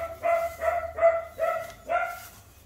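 A small dog barks outdoors in a steady series of five evenly spaced yaps, moderately distant and fairly faint over a low background hum.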